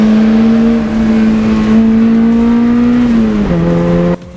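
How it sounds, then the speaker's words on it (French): A Toyota AE86 Trueno with its 4A-GE engine and Fujitsubo exhaust holds a loud, steady, buzzy rev very close up, then the pitch drops as the throttle eases and the sound cuts off sharply at the end. "la sonorité accentuée par l'échappement Fujitsubo nous incite à sacrifier notre permis sur l'autel du plaisir auditif"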